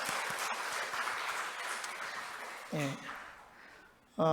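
Congratulatory applause from a church congregation during a Sunday service, steady clapping for a few seconds that fades out, followed by a brief voice and then louder speech at the end.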